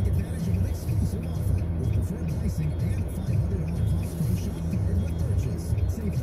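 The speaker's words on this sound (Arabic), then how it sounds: "هيدا كمان الباص هلا عم يمرق" A city bus moves along a Toronto street at night, its engine rumbling low and steady amid traffic noise while someone talks over it.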